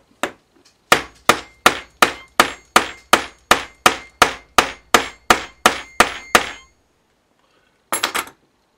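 Metal part of a Dansette Tempo record player struck with a hammer: about fifteen sharp, evenly spaced clanging blows close up, then a pause and a quick cluster of three or four more hits.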